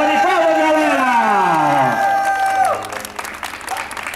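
At a lively birthday party, loud gliding tones like a siren or whooping voices sweep downward at the start. They then give way to a crowd clapping vigorously, with bright scattered claps filling the rest.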